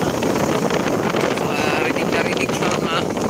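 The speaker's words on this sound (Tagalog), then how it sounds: "malakas talaga ang hangin" Strong wind buffets the microphone at Manila Bay, a steady loud roaring rumble with broadband gusting noise and no pauses.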